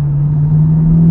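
TVR Chimaera V8 at full throttle, a loud steady low rumble from the engine close up and unaccompanied by talk.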